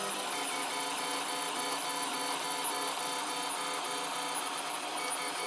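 3D printer printing with the nozzle at 210, a steady dense mechanical whir with fine stepper-motor tones, constant and fairly quiet throughout with no talking.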